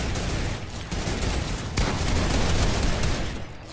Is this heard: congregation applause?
no